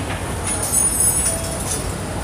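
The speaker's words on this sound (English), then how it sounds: "Another tram." A Hong Kong tram rumbles past at moderate distance, its steady rolling noise joined by faint high wheel squeals.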